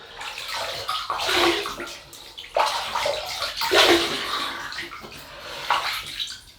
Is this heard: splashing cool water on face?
yes